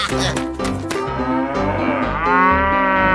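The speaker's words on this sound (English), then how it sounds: "Cow." A cartoonish cow moos loudly and at length in a 3D animal slide video game, a drawn-out bellow with game sounds briefly at the start.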